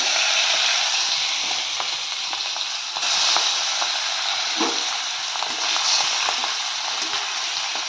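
Fish pieces frying in hot oil in a pan, a loud, continuous crackling sizzle with occasional sharper pops and spatters, close up with no talking.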